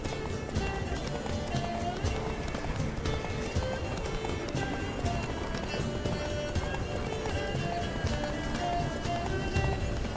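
Rapid hoofbeats of a galloping horse pound continuously over a busy soundtrack from The Witcher 3, with occasional distant whinnies.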